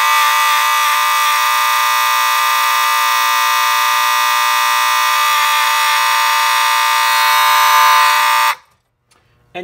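A Simplex 2901 fire alarm horn mounted on a 2903 strobe plate blares a loud, continuous buzzing tone for about eight and a half seconds before cutting off abruptly into silence.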